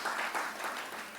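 A church congregation in Surabaya breaks into lively applause during a sermon, a brief, dense patter of many hands clapping close and full, without speech.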